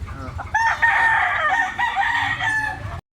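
A rooster at a gamefowl market in Consolacion, Cebu crows once in a long, loud, close call lasting over two seconds, over a busy background murmur.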